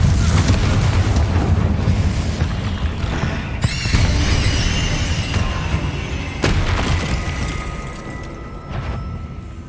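Spell blasts from the Hogwarts Legacy video game, including Confringo, during a fight against spiders: dense booming, crackling bursts over a rumbling game score, with several sharp impacts and swells throughout.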